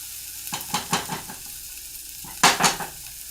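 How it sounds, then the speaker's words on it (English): Red pepper tossed into a pan of omelet filling on the stove, giving a few quick sizzling bursts and stirring scrapes, then a louder sizzle near the end, with no talking. "Now that they're about halfway through, throw our red pepper in."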